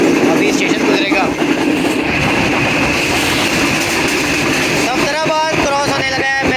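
Steady loud rumble and rattle of the Shalimar Express train running past Safdarabad station, with a voice talking over the continuous noise and brief clattering toward the end.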